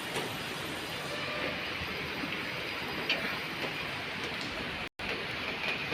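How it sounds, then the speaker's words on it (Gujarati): Morning rain falls outdoors as a dense, steady hiss of drops, even and continuous throughout with a brief cut near the end. "સવારમાં મસ્ત વરસાદ આવે છે"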